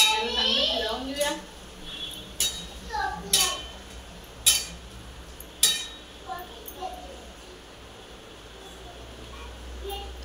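A spoon scrapes and knocks against a cooking pot while mango pickle with jaggery is stirred, giving a few sharp metallic clinks and clatters spread unevenly across the stretch, with soft background voices in between.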